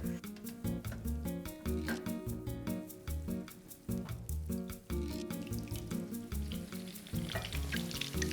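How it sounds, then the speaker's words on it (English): Meatballs sauté in a quarter inch of half olive, half vegetable oil, crackling loudly and steadily under a rhythmic background beat, without any talking. "I'm just going to saute these and just keep turning them so they brown evenly on all sides."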